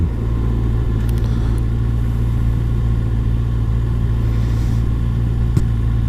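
A 2019 Kawasaki Ninja ZX-6R motorcycle rolls through slow afternoon off-ramp traffic near a semi-truck. Its engine drones loud and steady for the whole stretch, with a low hum and faint road noise and no voices.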